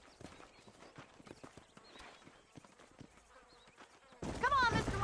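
Horses trotting in Red Dead Redemption give a rapid, irregular clip-clop of hooves across the ground, steady throughout, before a louder burst of chirping and other sound takes over at the end.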